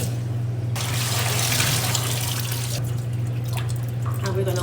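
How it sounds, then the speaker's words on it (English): Water pouring and trickling through rice in a strainer under a running tap, a steady close wash of splashing and dripping that continues throughout with no pause. "we're gonna wash until this runs clear"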